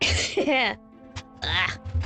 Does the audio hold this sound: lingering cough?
yes